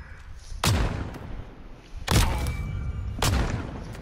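Gunfire in Call of Duty: Modern Warfare, three heavy booming shots spaced about a second and a half apart, each with a long rumbling tail, loud and close.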